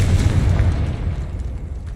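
A Confringo blasting spell goes off in Hogwarts Legacy: a loud, deep boom with a rumbling body that holds for about half a second, then a low roar that slowly fades. No other sounds are heard.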